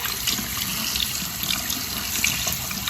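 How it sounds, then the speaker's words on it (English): Cleaning tools rinsed under a running bathroom sink faucet, a steady close hiss of water splashing for the whole stretch, with no voices. "I just take and rinse these off in the sink like this"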